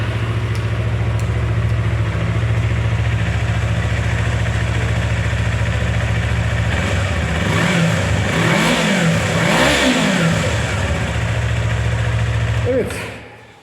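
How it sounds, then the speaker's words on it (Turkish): A Yamaha R25 motorcycle engine idles with a smooth, steady hum, then is revved up and down a few times in quick rising and falling swells before cutting off near the end, loud and close. "Bir çalıştıralım bakalım sesini duysunlar."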